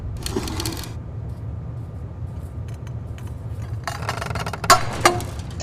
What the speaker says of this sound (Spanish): Ahora vamos a ver cómo este super cuchillo corta esto.